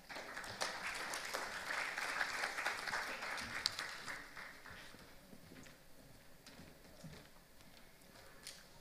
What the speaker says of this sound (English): let's hear a round of applause for Shri Sandeep Khosla